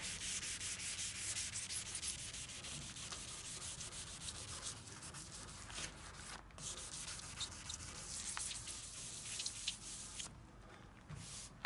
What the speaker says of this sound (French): Donc on ponce jusqu'à ne pratiquement plus en voir.